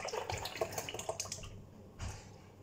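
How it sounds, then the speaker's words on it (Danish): Half a liter of cream pours into a bowl or pan while a layer cake is being made, giving a close, continuous splashy liquid flow for about a second and a half, then a brief further splash. "Så tager man bare og hælder den halve liter fløde i."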